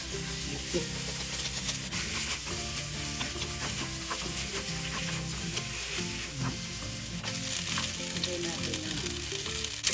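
Ingredients sizzle loudly in hot oil in a wok, a dense and continuous frying hiss with constant scraping and stirring underneath, close and without pause, and no one talking.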